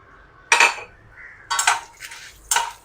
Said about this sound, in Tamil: போட்டு அதையும் நல்லா கலர் சேஞ்ச் ஆகிற வரைக்கும் வதக்குவோம்